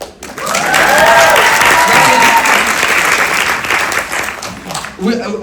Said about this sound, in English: give them all together one round of applause